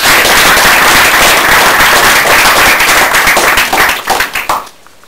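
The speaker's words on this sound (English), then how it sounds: "our next speaker, George Galloway MP, give him a round of applause." Audience applause for George Galloway MP at a talk on Palestine, dense loud clapping from a large crowd that thins out and stops near the end.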